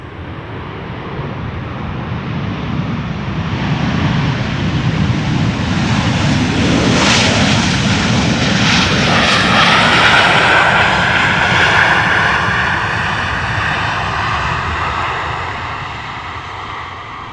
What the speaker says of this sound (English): 737 loudly passing by using the thrust reversers, which they are very good at enabling.